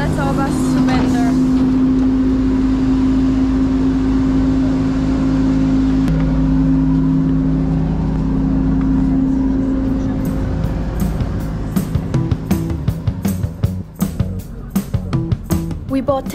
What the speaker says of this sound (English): we headed to the bus station to catch a Soviet bus to the next town